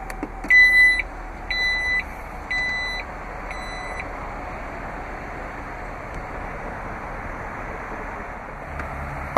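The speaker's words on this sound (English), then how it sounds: "To close the lift gate, just locate the button in the trim panel." The power liftgate of a 2011 Jeep Grand Cherokee Overland closes. A series of four short, clear warning beeps sounds near the start, followed by a quiet motor hum and a soft thud at the end.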